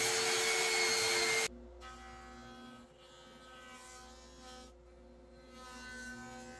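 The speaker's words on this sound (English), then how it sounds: "It's basically a drum sander that you can just roll around the side of the slab and cleans it all up and sands" A handheld drum sander rolls along the edge of a live edge wood slab, starting with a loud, harsh grinding roar that drops to a steadier, quieter humming whir with faint scraping.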